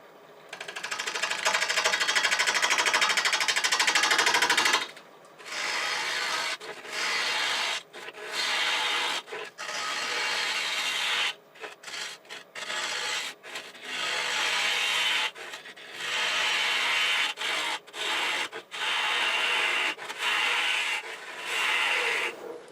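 A half-inch bowl gouge cuts a wooden bowl with handles spinning on a lathe, giving a loud scraping, rasping roar in repeated passes of varying length separated by brief pauses, close and with no talking.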